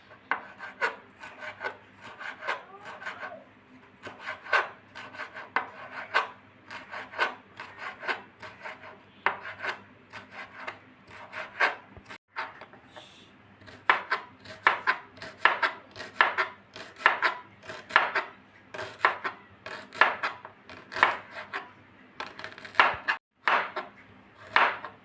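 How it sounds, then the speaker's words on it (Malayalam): Capsicum, onion and ginger chopped with a knife on a board, a steady run of quick close-up cuts with short pauses, no talking. "ഒരു ക്യാപ്സിക്കത്തിൻ്റെ പകുതി, ഒരു വലിയ സവാളയുടെ പകുതി, ഒരു കഷ്ണം ഇഞ്ചി ഇതുകൂടെ നമുക്ക് അരിഞ്ഞെടുക്കാം."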